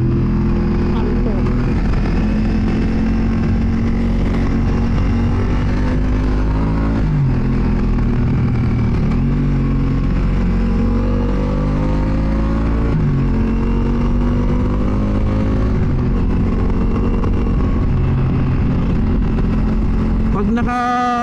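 Adventure motorcycle engine and exhaust running steadily in enduro/urban mode on a road trip, a continuous loud droning hum with shifts in pitch as it accelerates, with a rider talking over it.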